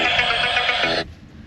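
Mobile phone ringtone going off inside a Chevy Bolt during a test drive at an auto show, a bright electronic tune playing for about a second before cutting off sharply.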